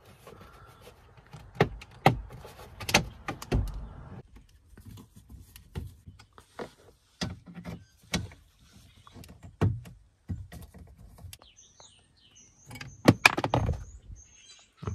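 A plastic dashboard trim panel beside a car's steering wheel is pried loose, giving quiet, irregular clicks, snaps and taps spread over several seconds, with no talking.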